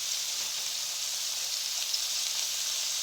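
Soy sauce hits a hot pan of vegetable pulao, giving a steady, even sizzle and hiss with no talk.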